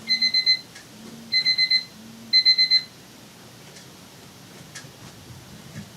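A household timer alarm beeps in three quick bursts of four shrill tones each, loud and close, then the room falls quiet apart from faint background noise.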